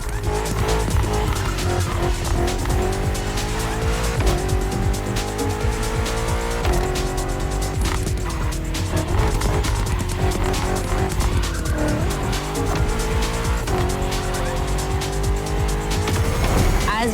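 BMW M CS cars race in the video game The Crew Motorfest, with loud, continuous engine roar and repeated tire squeals and skids running close and unbroken throughout.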